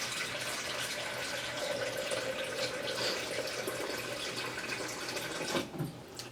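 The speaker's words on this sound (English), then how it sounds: "I put water inside that bag" Water running and pouring steadily into a plastic bag set inside a fermenting jar of fruit for a probiotic soda, a continuous close splashing trickle with a brief rustle near the end.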